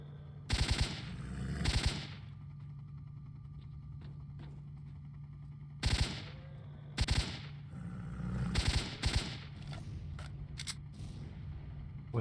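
Gunfire in the video game S.T.A.L.K.E.R.: Shadow of Chernobyl, with loud bursts of shots around the start, in the middle and near the end, separated by quieter ambient game sound and a steady low hum.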